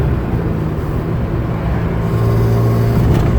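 A 1977 Porsche 911S engine pulls steadily in fourth gear, a loud, continuous low drone with a droning hum that rises slightly in pitch midway through, heard from inside the car with no talk.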